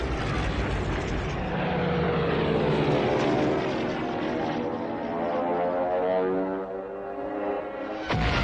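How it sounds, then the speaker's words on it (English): A World War II Stuka dive bomber roars steadily overhead, its engine drone rising and falling in pitch over about eight seconds in old archival sound, loud throughout and alone. "But without any reinforcements or aerial support, the French tanks become prey to the Stukas."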